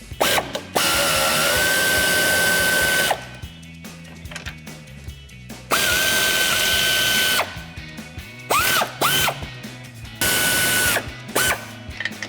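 Air ratchet loosening 18mm strut nuts on a Ford F-150 suspension: loud buzzing bursts of several seconds each with whining spin, separated by quieter clanks and handling noise.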